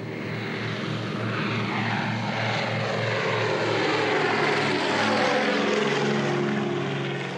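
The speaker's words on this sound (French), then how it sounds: "Le Catalina, c'est un symbole pour les amateurs d'hydravions." An American Catalina propeller flying boat from the 1930s, a seaplane, drones steadily overhead in flight, its loud, continuous engine roar throbbing evenly and swelling slightly as it passes, with no voices.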